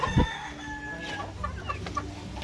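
Fighting chickens clucking and calling faintly in a noisy outdoor setting, with a short low thump near the start and scattered bird sounds throughout.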